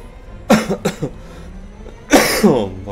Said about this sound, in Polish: Właśnie o tym kaszlu wspominałem przed chwilą.